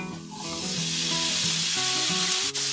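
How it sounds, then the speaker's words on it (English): Tomatoes sizzle steadily in a pan of fried onions for a lentil curry, a loud continuous hiss close by with no talk. "we can now add our tomatoes."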